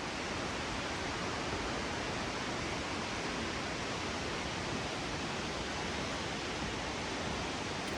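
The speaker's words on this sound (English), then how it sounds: "Enjoy that soothing sound of the falls in the background." A waterfall at Tallulah Gorge roars as a steady, dense broadband rush that holds unchanged throughout, with no voices over it.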